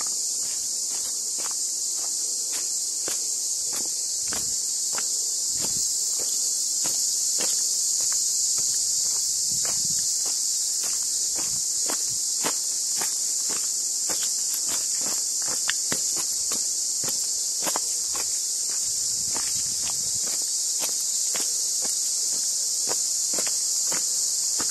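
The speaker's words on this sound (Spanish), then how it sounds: "Escuche el canto de las cigarras o chicharras." Cicadas in a forest near the Poza El Cajón river pool in Misantla, Veracruz, Mexico, keep up a loud, steady, high-pitched buzz, with light footsteps crunching along beneath it.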